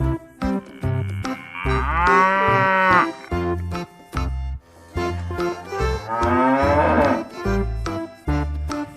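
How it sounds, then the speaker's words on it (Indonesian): Two long, loud cow moos, each lasting over a second, rise above a steady rhythmic thumping beat, with shorter lowing sounds between them, as cows are loaded onto a truck. "Wow, ada sapi teman-teman."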